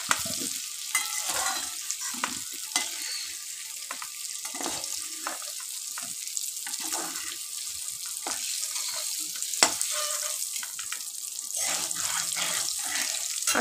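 Cumin seeds tempering in hot oil for an elephant foot yam curry, a soft sizzle broken by scattered clicks and scraping stirs, close and moderate in level, with no speech.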